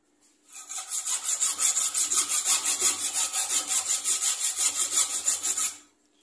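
A pressure cooker handle rod is cut on a lathe with a steady, rhythmic rasping stroke. About two dozen even pulses sound loud and close, then stop abruptly.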